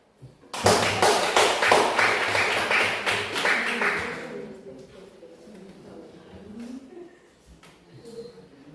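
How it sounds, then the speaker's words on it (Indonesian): Classroom applause for a presenting group, a loud burst of many hands clapping that fades after a few seconds into quiet room murmur and faint talk. "berikan aplaus kepada kelompok 1"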